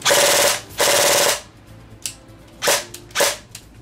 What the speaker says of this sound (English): One burst on full auto.